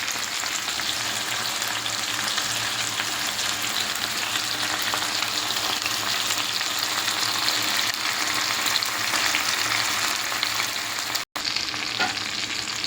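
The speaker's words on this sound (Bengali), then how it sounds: "মাছ ফ্রাইটা হয়ে যাচ্ছে।" Fish frying in oil over a low flame gives a loud, continuous crackling sizzle close by, broken once by a very brief dropout, with no one speaking.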